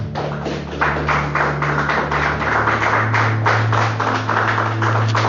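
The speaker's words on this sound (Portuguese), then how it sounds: "Palmas para Jesus." A church congregation claps together in praise of Jesus, a dense steady patter of many hands holding at an even level for several seconds, with a low sustained organ or keyboard tone underneath.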